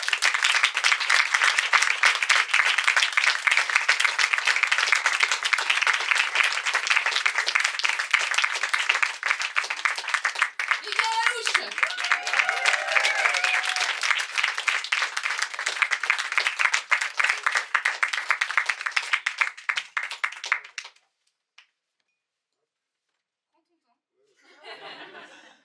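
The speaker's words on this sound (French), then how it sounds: "On applaudit Mickaël" A crowd at a stage show applauds continuously for about twenty seconds to welcome a performer, loud dense clapping with some laughter and chatter mixed in, then it stops abruptly into near silence and a voice begins.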